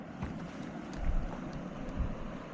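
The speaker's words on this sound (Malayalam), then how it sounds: "ആ വെള്ളത്തിൻ്റെ സൗണ്ട് നോക്കി" Water flows steadily in a hill village, a soft continuous rushing wash with light wind buffeting and faint low thumps, distant and fairly quiet.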